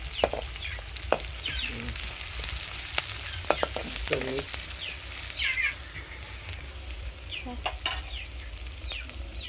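Kanda pohe is stirred in a frying pan, a soft continuous sizzle with intermittent scraping and clinking of the spatula against the pan, fairly quiet and close, with no talking.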